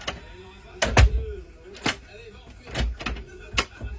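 A repaired pharmacy door, painted grey RAL 7016, swung shut into its latch several times, giving sharp close thuds and clicks spaced about a second apart, each with a short rattle.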